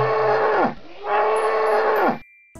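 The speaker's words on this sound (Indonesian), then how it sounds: "Dan juga ada kerbau." Water buffalo in Jurassic World Evolution 2 give two long, loud, close moos, one after another with a short gap between them, with no talk over them.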